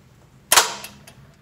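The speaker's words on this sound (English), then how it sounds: "the biggest thing with the EL is it pulls in the solenoid to go in, but it does make a loud clanking noise" An electric door latch solenoid of the EL dogging type pulls in with a single loud, sharp clank, followed by a short fading rattle and a couple of faint ticks.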